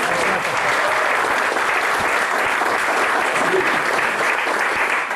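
An audience applauds for Stéphane at an informal talk in a home, a steady dense wash of clapping that holds at an even level throughout with no pauses.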